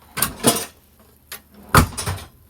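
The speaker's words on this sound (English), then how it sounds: "So I have this drawer that I've added" Several short wooden knocks and slides of a drawer in a 4x4 ambulance camper conversion being pulled open and pushed shut, close by with pauses between.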